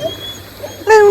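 A dog named Luna gives short high whimpers and yips from a canoe on a river, close by, ending in a louder rising whine, no voices.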